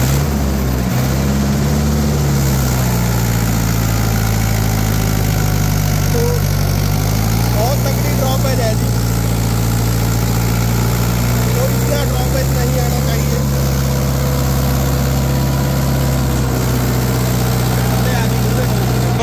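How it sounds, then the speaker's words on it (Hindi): Mahindra 575 XP Plus tractor engine drones steadily while pulling a cultivator, a loud continuous low hum whose pitch shifts as the revs drop under load, with a rough, noisy edge throughout. "अभी फिलहाल ट्रैक्टर 500 से 700 आरपीएम ड्रॉप कर रहा"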